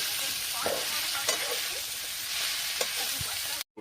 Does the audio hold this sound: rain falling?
no